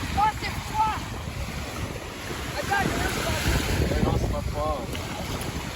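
Waves wash against the Lake Michigan shore in Chicago under gusting wind noise, a continuous surf rush with faint voices and bird-like chirps in the background.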